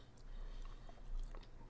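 Close, faint chewing of a piece of white cheddar cheese, soft irregular bites and mashing for under two seconds with no talking.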